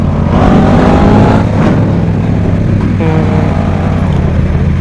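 A loud motorbike engine in a video game revs and drones continuously with rising and falling pitch, close and unbroken.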